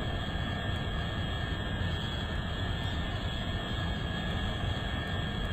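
Steady, dense jet roar of the XR5 spaceplane's scramjet engines in the game Orbiter 2010, a constant loud rumbling drone with a faint high whine on top, unbroken and with no talking.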